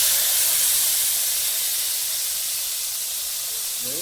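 Sour tamarind hits hot oil in a cooking pan, making a loud, steady hissing sizzle that fades slightly over a few seconds, with no voices.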